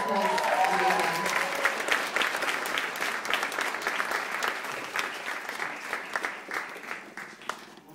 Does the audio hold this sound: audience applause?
yes